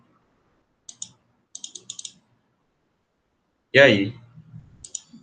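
Mouse clicks during a digital logic lesson, sounding as sharp, isolated clicks in small bursts, single and double, followed by a short spoken phrase.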